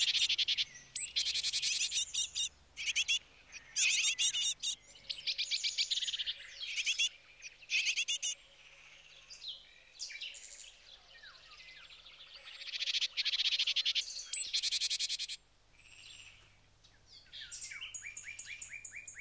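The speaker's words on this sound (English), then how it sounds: "the great tits see her emerge and begin to call in alarm" Great tits give repeated sharp alarm calls at dusk, loud and near in clustered bursts with short pauses, set against faint insect and night ambience.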